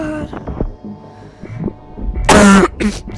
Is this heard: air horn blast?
no